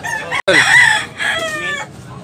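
Gamecocks for sale at a market in Tabunok, Cebu, with a rooster crowing loudly and close by: a hoarse, drawn-out cock-a-doodle-doo after a brief click, followed by a second shorter crow.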